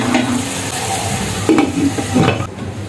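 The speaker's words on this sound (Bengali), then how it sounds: "এটা আমি ভালোভাবে ভাজা ভাজা করে কষিয়ে নিব" Meat for biryani frying and being stirred in a pan, a steady sizzle with scraping stirs around the middle and near the end, close and fairly loud with no talk.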